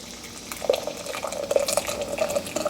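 Hot tomato basil soup poured slowly through a funnel into a jar, giving soft liquid glugs and splashes that come in small irregular bursts over a quiet background.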